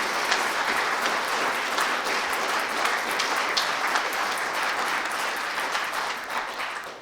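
Applause fills the hall at a rabbinical ordination ceremony of the International Institute for Secular Humanistic Judaism. The clapping is dense and steady with no pauses, and it eases off only in the final moment.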